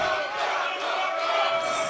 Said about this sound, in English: there was some chants going both ways